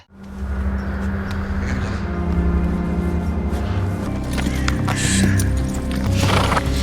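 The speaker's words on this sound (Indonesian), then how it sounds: "kuda yang ia tunggangi malah berhenti" A horse neighs and snorts amid steady low rumbling, with clopping hooves and some background activity throughout.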